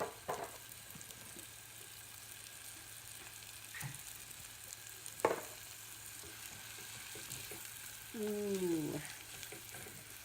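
Onions fry in butter in a pan with a steady soft sizzle and crackle throughout, occasional sharper pops and stirring clatters, and a brief vocal exclamation near the end.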